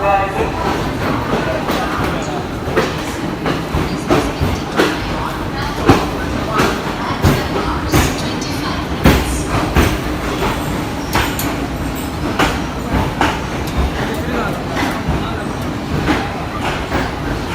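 The Dharavi Express bound for Bandra pulls along platform 5, its wheels giving a rhythmic clickety-clack with repeated sharp rail knocks and a low rumble, close and steady, while platform voices murmur underneath.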